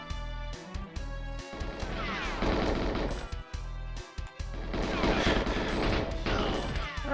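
Gunfire in the Nintendo 64 game GoldenEye 007 on the Dam level: loud, dense bursts of game shots and crashing impacts packed together over several seconds, with brief gaps, set against layered game sound and no talk.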